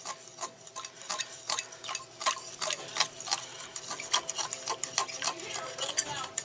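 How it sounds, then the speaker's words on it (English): Utensil stirring salad dressing with sugar and Worcestershire sauce in a bowl for a strawberry spinach salad, giving quick repeated clinking and scraping ticks, close and steady throughout with no talking. "Then I'm going to mix all this up."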